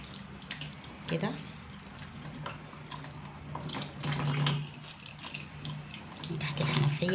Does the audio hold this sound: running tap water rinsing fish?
yes